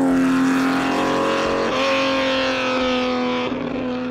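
A Ferrari 250 GTO's engine runs loud and close, a steady harmonic drone that briefly dips and rises again with each gear change or throttle lift, with no talking.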